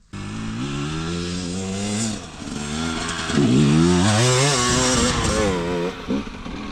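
A KOVI 300 Pro 2T two-stroke enduro motorcycle revs hard nearby, its loud buzzing engine climbing and dropping in pitch through repeated throttle blips and gear pulls.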